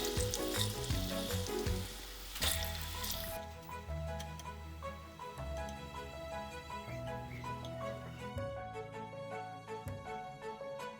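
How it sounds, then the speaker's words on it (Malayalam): Unnakkaya, a Malabar snack, frying steadily in hot oil, with a continuous broadband sizzle and a moderate, even level throughout, while soft background music plays along. "അടുത്ത റൗണ്ട് നമുക്കിതുപോലെ തന്നെ ഇത് ഫ്രൈ ചെയ്തെടുക്കാം"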